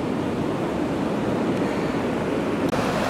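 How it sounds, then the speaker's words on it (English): Ocean surf at a beach near Byron Bay, a continuous broad wash of breaking waves with wind noise on the microphone, steady and fairly close throughout. "Let's go into the waves."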